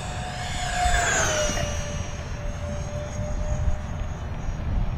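A small twin 64mm electric ducted fan RC model jet, an E-flite A-10 Thunderbolt II, whines loudly as it races past close and low over a grass field, its pitch sweeping downward, then fades into a lingering distant roar.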